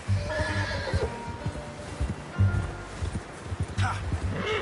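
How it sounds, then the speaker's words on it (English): A horse in the Red Dead Redemption 2 video game whinnies several times over footsteps and clip-clopping hooves, while characters talk across the sequence. "How's that new horse?"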